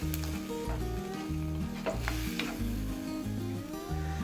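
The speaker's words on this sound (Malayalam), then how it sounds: "ഇതിൽ ഒഴിച്ചിരിക്കുന്ന വെള്ളം തിളച്ചിട്ടുണ്ട് കേട്ടോ" Steady, loud bubbling and sizzling from a pan of prawns in boiling water, continuous throughout with no talking.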